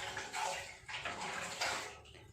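Wild termite mushrooms and another wild mushroom are rinsed by hand in a basin of water, with soft, quiet sloshing and splashing in uneven bursts.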